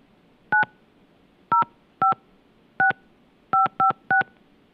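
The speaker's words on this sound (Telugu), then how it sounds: "సుభాష్ రెడ్డికి ఫోన్ కాల్ కోసం ట్రై చేస్తూ ఉన్నాము." A telephone number is keyed in live on air: seven crisp two-tone keypad beeps, loud and close, spaced unevenly with quick pairs near the end, with no talking over them.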